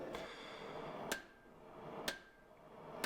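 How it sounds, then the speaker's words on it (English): An 8-pound hammer strikes Damascus pattern-welded steel during forging of a hog splitter blade, three sharp ringing blows spaced about a second apart over a steady background hiss, with no voices. "So we're forging this out here using my 8-pound hammer, which is really too heavy"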